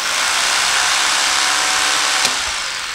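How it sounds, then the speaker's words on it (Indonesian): A loud electric saw runs steadily and continuously, a harsh broadband whine filling the whole clip with no talking. "Terus kita nyalain ini gergajinya. Sekarang agak berisik jadi aku diam dulu."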